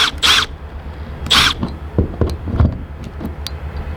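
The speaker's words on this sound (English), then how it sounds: "you just get the driver to go in them" A power screwdriver drives square-drive screws on a skylight, with loud close whirring bursts and short motor whines between scraping and clicking handling noises.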